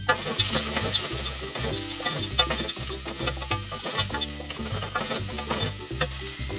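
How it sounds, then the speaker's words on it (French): Potatoes, garlic and almonds sizzle gently in a pan over low heat while a utensil stirs and scrapes them in repeated close strokes, a steady soft frying hiss underneath with no talking. "Donc là, je suis à feu doux. Donc là, on fait revenir, on fait attention à ce que ça ne s'accroche pas."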